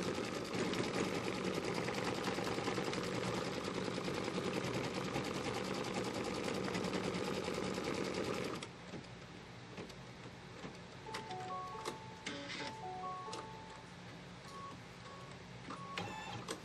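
Embroidery machine stitching a Kimberbell Pumpkins & Potions quilt block, a steady fast mechanical chatter for about eight seconds that then drops to a quieter ticking run with faint tonal beeps.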